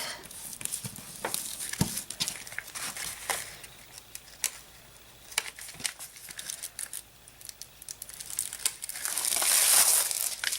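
A hand rubs firmly over a folded paper card to press its adhesive backing down, making continuous dry crinkling and scratchy friction that swells louder toward the end.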